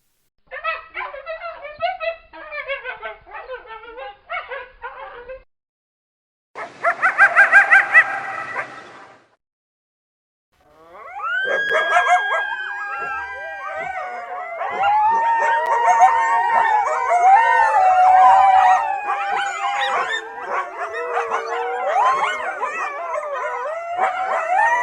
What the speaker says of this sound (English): if you've never heard a coyote, here's kind of what they sound like